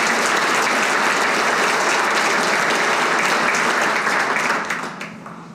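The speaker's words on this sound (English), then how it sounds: "Let's give them one big round of applause" A live event audience gives a big round of applause for the top 10 dealers, dense and loud from a large crowd, holding steady before fading toward the end.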